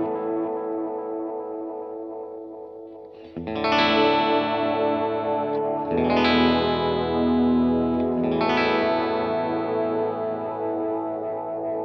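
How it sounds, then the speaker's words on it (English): Guitar played through a Fairfield Circuitry Meet Maud delay pedal set with a very dark tone, three strummed chords each trailing into murky, near self-oscillating repeats that smear and build, loud and continuous with no talk. "this is the Fairfield Circuitry Meet Maud, and it's a very dark sounding delay"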